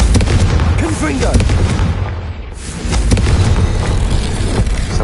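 The Confringo explosive spell from Hogwarts Legacy detonates as a loud, booming blast with heavy low rumble. The blast briefly thins, then swells again into continued rumbling crashes.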